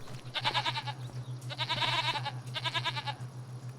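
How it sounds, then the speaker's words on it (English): Goats bleat in the Build My Town video game: three separate wavering, nasal calls, close and clear, with short pauses between them. "108 mature goats in there."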